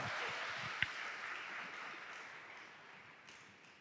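Audience clapping at a church worship celebration, a broad wash of many hands that starts moderately loud and gradually fades, with one sharp louder clap near the start.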